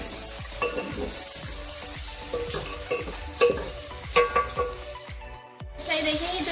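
Tomatoes frying with masala and ground red chilli in a pan, a steady hiss with repeated scraping stir strokes at a regular rhythm, close and fairly loud, briefly dropping out near the end before the sizzle resumes.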